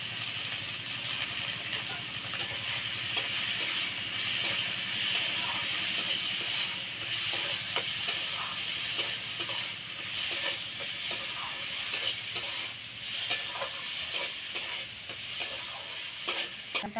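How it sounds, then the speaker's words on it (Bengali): Washed lentils sizzle and hiss steadily as they are stirred and fried in a little oil in a wok, with occasional scraping clicks and no talking. "অল্প তেল দিয়ে আমি কড়াইতে একটু নেড়ে নিই"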